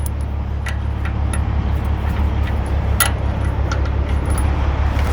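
Lug nuts go back onto a semi trailer wheel in a shop: scattered light metallic clinks and jangles over a steady low hum, close by, with no voices.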